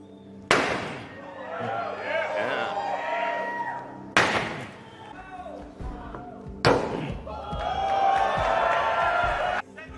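A sledgehammer strikes a Tesla Cybertruck door at its unveiling event: three loud, sharp metallic impacts spaced a few seconds apart, each followed by crowd noise, cheering and talk.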